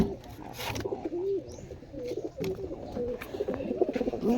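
Pet pigeons coo repeatedly nearby, soft throaty rolling calls recurring through the stretch over faint background noise and a few rustles.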